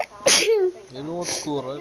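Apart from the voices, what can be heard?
person sneezing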